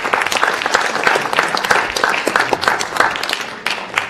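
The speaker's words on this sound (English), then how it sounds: "if we could have a warm welcome of applause to Chris Iacono" An audience gives a warm round of applause to welcome a guest, dense steady clapping from many hands that continues throughout at an even level before tapering slightly at the end.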